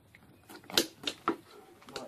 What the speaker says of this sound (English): So cut his head off,